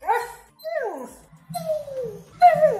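A dog whimpers and whines in several drawn-out, falling cries with short yips, close and fairly loud, separated by brief pauses. No one speaks.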